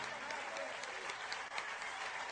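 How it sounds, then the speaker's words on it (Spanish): Audience applause at a Venezuelan televised political event with joropo dancers and cuatro musicians, a steady dense clapping from a crowd filling the whole short stretch. "Un aplauso."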